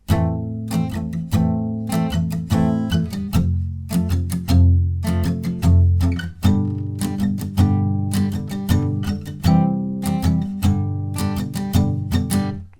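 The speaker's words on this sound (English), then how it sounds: "We're going to palm mute whilst we play that strumming pattern and it'll sound like this." Muted, chunky acoustic guitar strumming in a steady rhythmic pattern, the strings palm-muted at the bridge, playing on alone for about thirteen seconds with clear repeated strokes.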